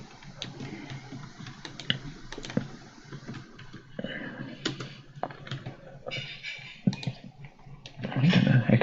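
Steady keyboard typing on a computer while writing firewall rules for a wireless adapter interface, with many quick, light clicks at close range and louder bursts near the end, alone without talk.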